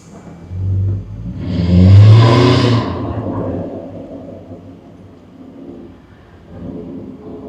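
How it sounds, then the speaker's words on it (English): A Jaguar F-Type sports car engine roars up in a loud rev close by between buildings, then settles into a lower rumbling idle that rises slightly again at the end. "they're not going to expect it when it revs up and goes"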